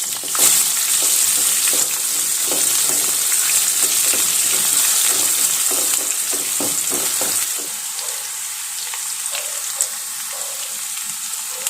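Onions and cashews frying in oil in a kadai for veg biryani give a steady, bright sizzle, with stirring scrapes and crackles; the sizzle softens and settles near the end as more onion goes in.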